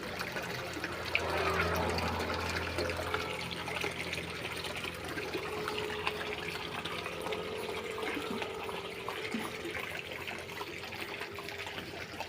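Water splashes and trickles steadily into a tilapia tank from an oxygen supply line, a continuous near gurgle and hiss running through the whole stretch with no voices.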